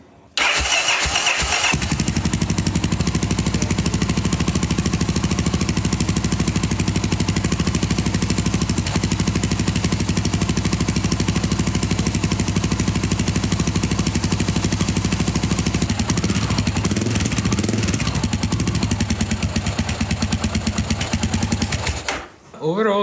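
Honda NX650 Dominator motorcycle engine, freshly rebuilt, runs steadily close by for about twenty seconds as gears are tested, a loud even thumping idle with slight changes in tone before it cuts off.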